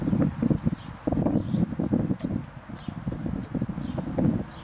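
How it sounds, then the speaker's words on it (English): Gusty outdoor wind buffets the microphone in a loud, continuous rumble with pulsing surges and faint rustling throughout. "Yeah, you hear that wind picking up, huh?"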